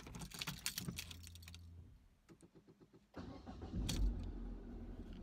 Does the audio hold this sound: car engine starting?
yes